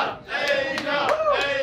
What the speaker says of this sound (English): Please give another round of applause for Asia.